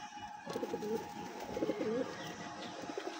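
Soft, low coos from a Shirazi pigeon chick repeat a few times against a faint background hum, close but quiet.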